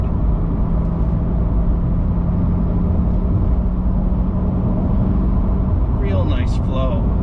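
A 2022 Chevrolet Corvette in track mode drives through corners, its engine a steady, loud droning roar from inside the cabin with a faint squeal near the end.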